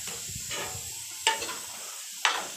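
Potatoes cook in mustard oil over a low flame, a soft steady sizzle close by, broken by two sharp scraping stirs of a spoon against the pan.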